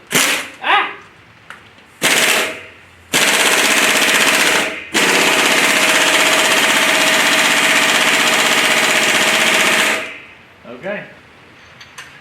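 Air impact gun hammering on an Oldsmobile DX small-block engine during teardown, loud close bursts: short rattles, then two long sustained runs of several seconds, with brief shouts between.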